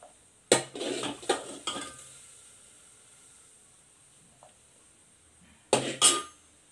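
Fried okra (bhindi) being scooped out of a pan, with sharp metallic scrapes and clinks of a utensil against the pan in a quick cluster, a long quiet gap, then two more clattering scrapes at the end, with no talk.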